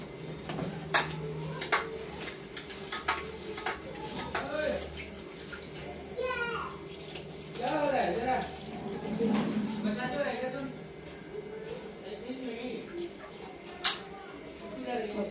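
Lentils are washed in water in a pot, with splashing and sloshing, clinks of metal pots and utensils, and voices, including a child's, talking over it in a home kitchen.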